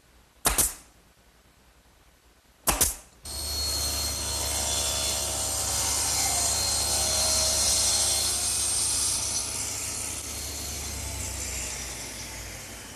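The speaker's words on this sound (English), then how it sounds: "this panel cutter sure makes squaring up these big pieces easy" A panel cutter saws through a large wood panel in a woodworking shop: two sharp clicks, then a loud, steady saw whine that holds for about ten seconds.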